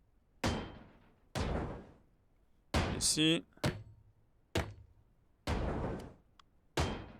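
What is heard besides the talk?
hammer blows in the video game Ship Graveyard Simulator 2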